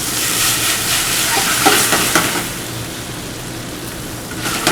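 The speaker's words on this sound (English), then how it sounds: "I'm going to deglaze with a little bit of white wine." White wine poured into a hot pan of risotto, a loud broad sizzle that flares and then settles into a softer steady hiss.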